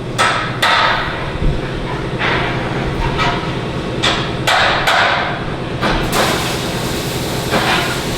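Hammer blows strike Corvette transmission and bell housing parts in a shop, loud sharp repeated impacts at irregular intervals, about eight hits over steady background noise.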